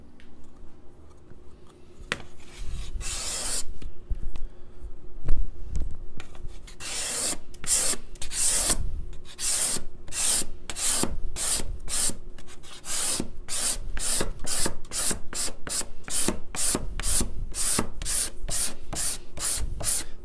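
A card scraper works across the wood of a guitar in a steady run of quick, raspy strokes, sparse at first and then settling into a fast, even back-and-forth rhythm, close and crisp with no talking.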